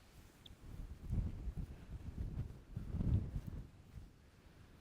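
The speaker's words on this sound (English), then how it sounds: "the wind's a bit crazy at the minute" Gusty high wind on Bosta Beach, Harris and Lewis, rising and falling in two strong rumbling surges against the microphone, with no voices.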